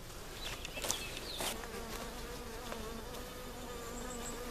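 A swarm of honeybees buzzes steadily during a capture, a dense, continuous hum filling the scene with a few brief louder passes of nearby bees.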